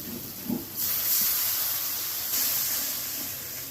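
A spice mixture with added water hisses and sizzles in a hot pan, a loud steady steaming hiss starting after a brief soft clatter and swelling again midway.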